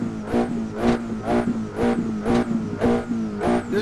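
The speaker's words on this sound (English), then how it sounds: "we're just gonna rev our engine." A Ferrari engine in the video game Assetto Corsa revs repeatedly in quick bursts, about seven rising surges in a steady rhythm over a constant idle hum, close and punchy.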